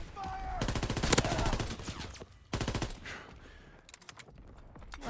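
Machine gun fire in Call of Duty WW2 rattles in two loud rapid bursts of suppressing fire, separated by a short pause, followed by quieter scattered shots and ambient battle noise.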